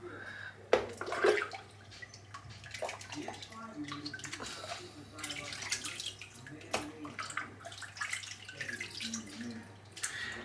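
A Frank Shave silvertip shaving brush is rinsed under running water, giving a faint, steady trickle broken by splashes and drips, with the brush knocking quietly now and then.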